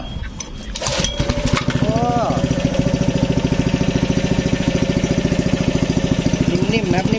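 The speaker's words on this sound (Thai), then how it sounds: "ลองเร่งดูก่อน เป็นซินสี่จังหวะนะครับ" A Maruyama four-stroke engine driving a high-pressure pump is pulled to life and then runs at a steady, loud, close chugging idle with a rapid even rhythm, with brief talk near the start.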